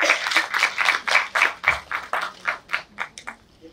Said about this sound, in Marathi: सरांसाठी जोरदार टाळ्या वाजवायच्या